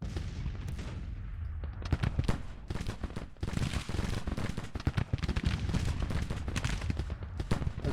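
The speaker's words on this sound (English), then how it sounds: "they're firing. They are firing." Troops exchange gunfire in the Grand Tactician Civil War strategy game during a Spring 1861 Confederate campaign: dense, irregular cracks and volleys crowd together, with heavier thumps mixed through a busy, continuous battle din.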